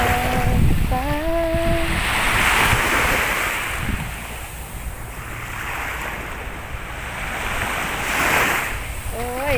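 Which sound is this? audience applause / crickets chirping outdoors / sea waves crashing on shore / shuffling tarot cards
sea waves crashing on shore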